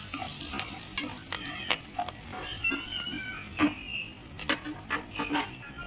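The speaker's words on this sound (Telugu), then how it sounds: "పసుపు ఉప్పు వేసి లైట్గా దోరగా వచ్చేలాగా వేయించుకోవాలి" Turmeric and salt fry in hot oil in a pan for a tripe curry, a soft steady sizzle broken by repeated close scrapes and clinks of a stirring spoon.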